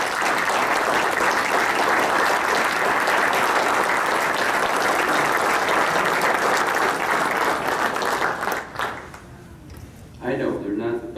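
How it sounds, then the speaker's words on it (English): Loud, sustained audience applause fills a hall during a 2017 athletics hall of fame ceremony, then breaks off near the end. "Can we give them a round of applause?"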